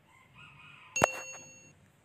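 A single bright bell ding rings out clearly, its tone hanging briefly before fading, with faint background noise around it.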